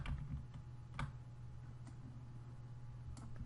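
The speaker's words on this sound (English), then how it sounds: "So let's move it over with the arrow keys" Computer keyboard arrow keys clack in a few soft, separate taps, faint and close against a low steady hum.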